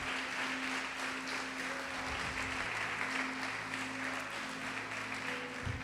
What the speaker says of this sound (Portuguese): Pode aplaudir e glorificar o Senhor Jesus por isso